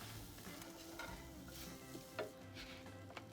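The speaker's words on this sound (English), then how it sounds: "Then we're going to be adding 2 eggs and stirring that all together." Eggs, edamame and red onion are stirred in a wok. A quiet, continuous sizzle runs under scattered scraping strokes and a couple of sharp clinks of the utensil against the pan, with no talking.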